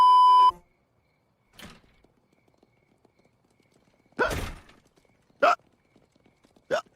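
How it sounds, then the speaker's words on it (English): Cartoon character hiccuping in a Family Guy scene: a short beep, then a few sharp, isolated hiccups spaced over several seconds with quiet between them. "What's up with those hiccups?"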